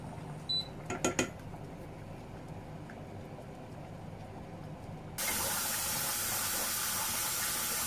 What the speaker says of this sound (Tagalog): pinaran ko lang yung malamig na tubig